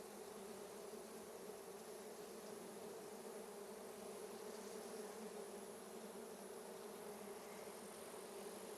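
Honey bees in a queenless Langstroth hive make a dense, steady agitated hum, close and continuous with no pauses and no voices.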